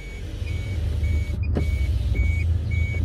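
An old Rover 820Si gives off repeated thin, high squeaks at irregular intervals over a steady low engine rumble, heard up close.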